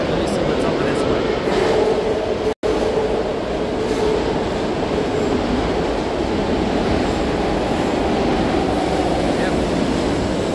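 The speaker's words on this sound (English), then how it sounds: "That's the top of a Muni train." A San Francisco Muni train rumbles past as a steady, loud low roar with rail noise throughout, heard outdoors on a city street on a Sunday evening.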